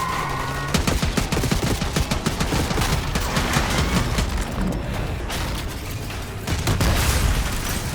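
Heavy automatic gunfire rattles almost without pause at a limousine coming down a street in Call of Duty: Black Ops 6, loud and close, with booming impacts mixed into the sustained volley.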